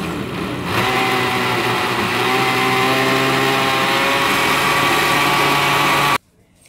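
A kitchen blender runs continuously as it purées banana with milk, vanilla and sugar, a steady loud motor whine that cuts off abruptly near the end, leaving near silence.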